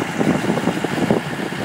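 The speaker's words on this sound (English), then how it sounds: "Little Chamberlain tractor." Small Chamberlain tractor engine running at a steady idle on a wheat farm in Western Australia, a continuous low rumble with a faint fluttering pulse, heard close and alone.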